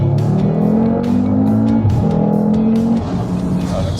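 An Audi RS3 accelerating hard, its engine note rising in loud sweeping pitch climbs with a brief drop between gears, close and dominant with a slight squealing edge.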